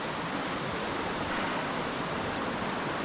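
Wrynose Beck, a Lake District mountain stream with waterfalls, rushes in a steady, loud broadband wash of flowing water, continuous and close with no pauses.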